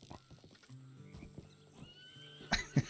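A horse whinnies in a ranch roleplay video game, a harmonic neigh rising over soft hoof clip-clops and low game ambience, ending in two sharp louder bursts near the close.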